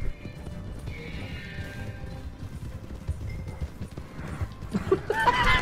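Hooves clip-clop steadily under a horse's neighs and whinnies in the Red Dead Redemption 2 video game, during a bounty hunt with a wounded horse, ending in a louder burst of crashing noise.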